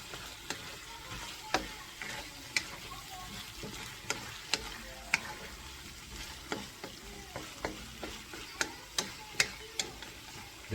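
Cheesy meatballs fry quietly in a pan, a soft steady sizzle punctuated by regular sharp taps and clicks of a utensil against the pan, with no voices.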